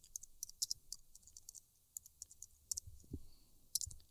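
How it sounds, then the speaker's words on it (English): Fingers type a name on a computer keyboard during a Twitter account setup, a quiet run of light, irregular key clicks with short pauses, close and alone. "we're going to type in her name"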